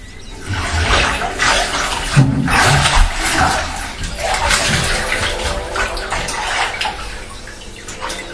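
A person rinses off under running water while bathing, a close, steady splashing and pouring rush that rises and falls in small surges for several seconds, with no talking.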